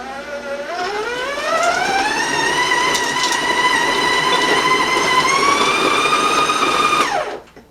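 An electric stand mixer with a paddle beats chocolate chips into cookie dough. Its motor whine climbs in pitch, holds a steady tone for several seconds, then winds down and stops near the end.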